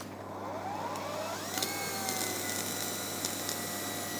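An Ego 2100 cordless battery-powered pressure washer runs on low power with a 2.5 nozzle, a steady whirring motor whine rising in pitch as it spins up, over a continuous hissing spray.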